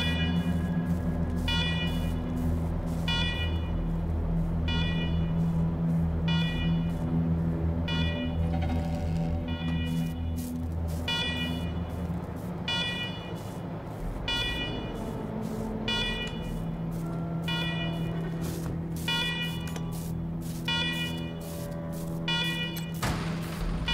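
An alarm blares in Wasteland 3, repeating in a steady pulsing pattern of electronic tones over a low droning background, loud and continuous throughout.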